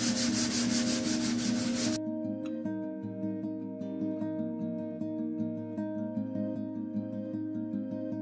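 Fine 320-grit sandpaper rubs by hand over a dresser coated in Dixie Belle chalk paint, in soft, steady back-and-forth strokes. The sanding is quiet and close, with a constant tonal hum behind it.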